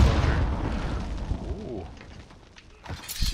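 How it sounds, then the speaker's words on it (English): Grenade launcher explosion in a Warzone match, a heavy rumbling blast that decays over a couple of seconds, followed by scattered debris pops and smaller bursts close by. "Grenade launcher."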